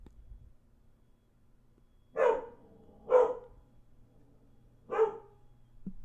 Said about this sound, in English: No, no barking.